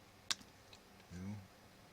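Flush cutters snipping component leads on a small electronics build: one sharp, close click, followed by a faint tick and a short low hum at a quiet bench.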